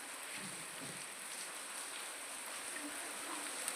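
Heavy rain falls across a village market in Anjiya Khadi, a constant broad hiss of drops on surfaces, while faint voices murmur in the background.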